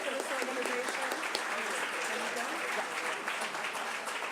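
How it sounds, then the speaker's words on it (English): Applause at a Boston city council meeting, a steady patter of hand claps from the chamber at moderate level, continuing evenly with no talk over it. "if we could just hand clap Grace"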